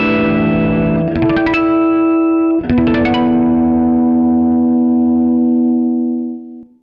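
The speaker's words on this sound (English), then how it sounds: "they produce a really beautiful bell-like sound" Guitar natural harmonics ring out as clear, bell-like sustained tones, two plucked groups each followed by shimmering overtones that decay slowly and fade into silence.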